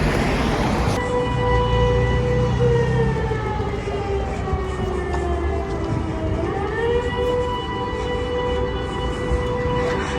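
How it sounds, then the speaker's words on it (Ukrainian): Several sirens wail together at once, long rising and falling tones layered over a noisy outdoor background, loud and steady throughout. "З усіх сторін сирени кричать"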